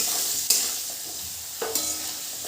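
Potatoes with turmeric fry in hot oil in a pan, a steady close sizzle broken by a few sharp scrapes of a spatula stirring them, with no talking.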